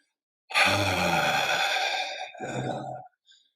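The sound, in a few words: deep exhale, breathing out all the air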